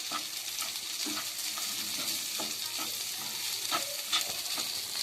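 Powdered idli mixture stirred into a sizzling tempering with tomato, a continuous frying hiss under repeated rhythmic scrapes of a spoon against the pan, close and steady, no talking.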